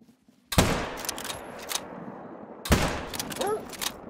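Two sharp hunting rifle shots in the video game theHunter: Call of the Wild, a couple of seconds apart, each followed by a clattering echo and mechanical reload sounds, loud and close.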